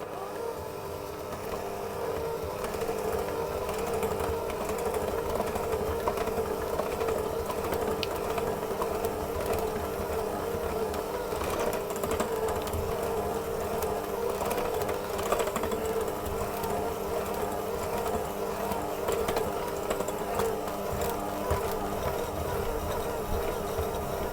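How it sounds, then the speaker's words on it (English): An electric mixer whirs steadily while flour is beaten into lemon cookie dough, a continuous motor drone that stays at an even, fairly loud level for the whole stretch, with no talking. "I'm going to put my flour in, and I'm going to mix that just to get that combined"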